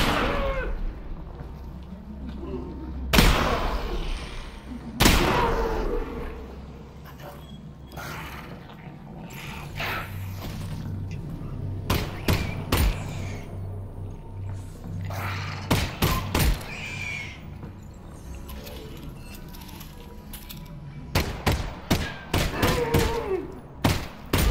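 Shotgun blasts in the game Half-Life, sharp booming shots spaced several seconds apart and then a rapid cluster near the end, mixed with in-game thuds and low rumbling.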